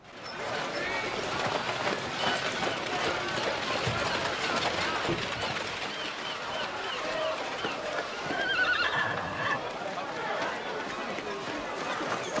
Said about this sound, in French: Bien la calèche, Bertuccio, bien.